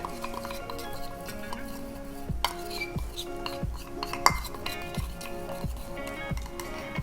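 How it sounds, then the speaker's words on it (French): A utensil scrapes and knocks around a container as Jesmonite paste is mixed until smooth, a close, roughly regular series of clinks and taps repeating about every half second to second. "C'est important de bien mélanger pour qu'il n'y ait plus de grumeaux"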